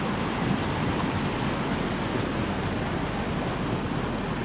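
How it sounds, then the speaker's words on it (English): A fast-flowing creek rushes in a constant, loud, close wash of water that fills the whole scene without letup. "This river is just really moving."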